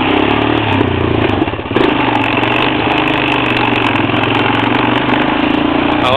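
A Honda Recon 250 ATV engine runs steadily while riding in snow, a loud, constant buzzing drone close by with a brief dip partway through.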